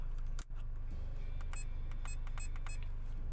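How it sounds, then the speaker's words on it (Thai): Short electronic beeps from a Defi Sport gauge over-limit warning sound repeatedly in a car, set against a steady engine hum and cabin noise. "มันจะมี ไฟสีแดงขึ้นมาที่หน้าเกียร์ตัวนั้น แล้วก็ มีเสียงปี๊บนะคร"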